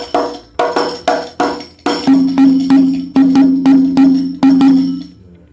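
Al Banjari hadrah frame drums play the pukulan naik pattern: about a dozen loud, evenly spaced strikes, a few dry slaps opening before deeper resonant booming hits join and ring on beneath, played alone without voices.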